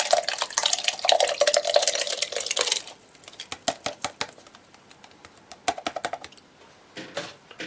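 Rabbit skin glue is stirred into water in a container, with a watery swish at first, then a series of light irregular taps and clinks of the stirrer against the vessel, close and fairly quiet, with no talk.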